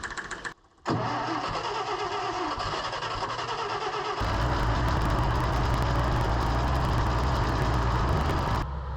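An old JLG manlift engine running close by, a loud steady mechanical drone after a brief dropout near the start, growing heavier and rougher midway as it settles into a sustained idle.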